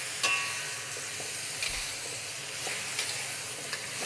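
Scallions hit a very hot wok on a Bluestar stove and sizzle in a loud continuous hiss, with occasional stirring scrapes and crackles running throughout, with no speech.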